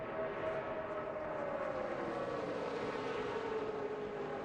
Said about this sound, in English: You hear the sounds of the engine. They never waver. Flat out all the way around.